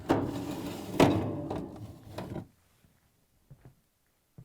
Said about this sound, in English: Next, pull out and remove the lower drawer.